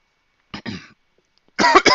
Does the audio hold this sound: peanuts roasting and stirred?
no